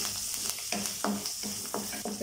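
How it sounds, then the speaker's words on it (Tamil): Chopped onion with curry leaves sautéing in a pan for rava kichadi, a steady sizzle broken by a few rhythmic spatula strokes, close and fairly quiet with no voices. "வெங்காயம் ரொம்ப வதங்கணும்னு இல்லை, லைட்டாக வதங்கினா போதும்"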